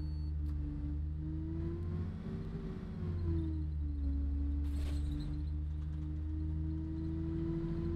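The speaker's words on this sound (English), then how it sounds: "let's rev the engine a bit, then release the handbrake" A bus engine in the OMSI driving simulator on the Devon route to Paignton: a steady drone rises slightly in pitch as it revs, then settles back to a constant hum, heard alone without any talking.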